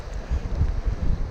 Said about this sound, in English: the wind is rather gusty